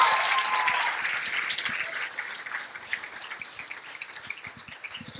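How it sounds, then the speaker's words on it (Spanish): An audience at a live presentation applauds as two guests are welcomed onstage, a dense wash of many hands clapping that starts loud and slowly thins and fades over several seconds. "Más fuerte el aplauso"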